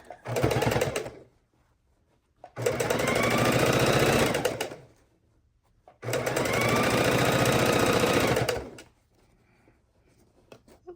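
A sewing machine stitches binding onto a large Christmas quilt in three separate bursts, each a steady whirring run of a couple of seconds, with short silent pauses between them.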